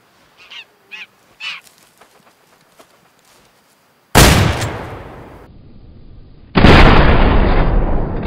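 Two loud shotgun blasts fired in the hunting game Way of the Hunter, each a sharp boom with a long rolling tail, preceded by a few distant goose honks; no talking.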